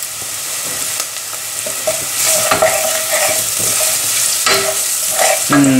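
Ginger and garlic stirred into hot oil over medium heat, a loud steady sizzle close by with repeated scraping and clacking utensil strokes throughout, no speech.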